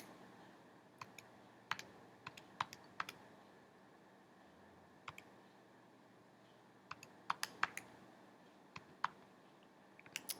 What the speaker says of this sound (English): type it in our calculators and get a good idea of what we're looking at